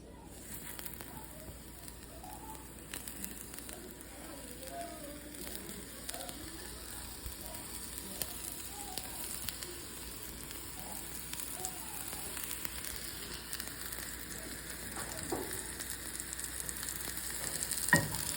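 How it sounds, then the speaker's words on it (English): Oyster mushrooms sear on a hot cast iron skillet with a steady, close crackling sizzle that holds throughout and grows slightly louder toward the end, with no talking. "But we're just gonna sear it on this hot skillet that I have over here."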